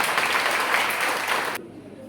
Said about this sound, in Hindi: प्लीज उनको जोरदार तालियों के साथ मंच पे स्वागत करते हैं।